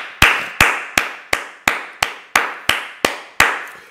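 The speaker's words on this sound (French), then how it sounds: "avec des acclamations pour la gloire de Dieu" A church congregation claps in unison at a service, ten sharp, evenly spaced claps with ringing echo tails in a reverberant hall, loud and steady with no voices.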